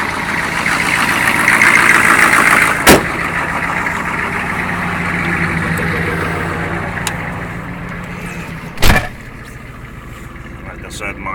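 A truck engine runs steadily after starting up, a loud continuous rumble with a couple of sharp knocks and someone talking over it throughout.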